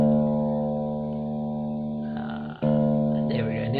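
Bass guitar played through a Cuvave fuzz pedal in a room: a sustained, buzzy distorted note holds steady, drops out briefly, then returns with a brighter, gritty attack.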